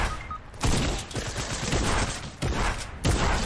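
Fortnite shotgun fire in a battle royale match: three loud close blasts spaced irregularly over a few seconds, set in dense, busy game noise with no talking.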